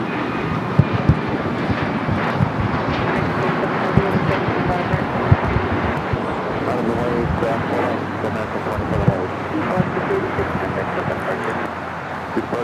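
A Boeing 737 MAX 9 takes off at Los Angeles LAX airport. Engines give a broad roar with wind buffeting throughout, and someone talks over it.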